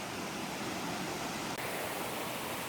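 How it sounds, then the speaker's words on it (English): Steady, full rush of the Vibhavadi waterfall pouring into a big open pool, a continuous close roar of falling water with no voices. "So this is a big section of the waterfall."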